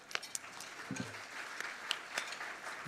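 Audience applause at a Red and White Ball gala, scattered claps and a few sharp individual hits over a soft room murmur, fairly quiet and sparse rather than a full ovation.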